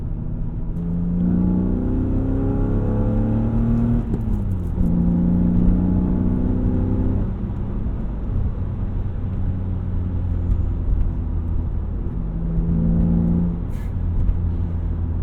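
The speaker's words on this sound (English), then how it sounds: "Flat footing in E36s is so much fun. You hear that, the suction." A BMW E36 M3 engine revs hard under full throttle, pitch climbing steadily through several gear pulls with a whooshing intake roar, loud and continuous throughout.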